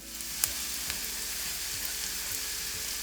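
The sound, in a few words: chopped garlic sizzling in a frying pan with onion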